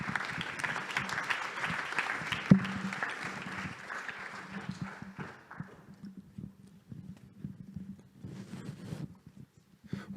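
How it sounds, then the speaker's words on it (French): Audience applause at a digital awards ceremony, moderate clapping that fades out after about five seconds, followed by a quieter stretch with a low hum and a brief return of a few claps. "Voilà, sous vos applaudissements."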